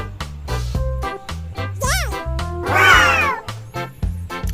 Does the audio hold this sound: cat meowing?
yes